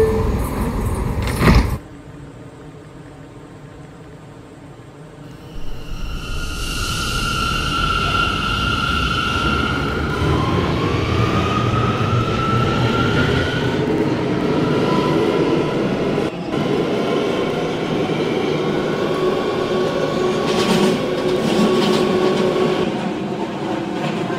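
An R179 C local subway train in New York pulls away from the station. A sharp bang comes first, then the motors whine up in a rising pitch and the wheels rumble steadily and loudly, with no voices.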